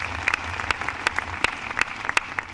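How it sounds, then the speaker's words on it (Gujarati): A crowd at a political election rally claps for Air India pilots, a scattered burst of hand claps with sharp individual cracks over a low murmur of the gathering. "હું આપણી આ જનમેદનીને એર ઇન્ડિયાના પાયલોટો માટે એક વખત તાળી પાડવાનો આગ્રહ કરું."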